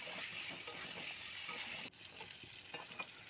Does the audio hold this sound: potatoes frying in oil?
yes